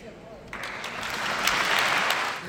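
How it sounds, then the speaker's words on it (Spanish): A gathered crowd gives a strong round of applause thanking Pope Francis after he prays with them and blesses them. The clapping swells in suddenly, grows fuller and louder, and continues steadily for a couple of seconds. "ellos le dieron las gracias con un fuerte aplauso"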